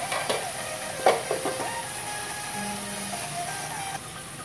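Fried eggplant with oyster sauce sizzles steadily in a pan while it is stirred, with a few clinks and scrapes near the start over an even frying hiss.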